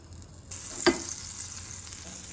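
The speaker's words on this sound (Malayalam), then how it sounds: "അതിനുവേണ്ടി ഒരു പാൻ ചൂടാക്കി 1 ടീസ്പൂൺ ഓയിൽ ഒഴിച്ചു കൊടുക്കാം. കൂടെ 1 ടീസ്പൂൺ ബട്ടർ ചേർത്ത് കൊടുക്കാം." Butter added to hot oil in a pan sizzles steadily from about half a second on, with a brief louder crackle near the start, heard close and alone.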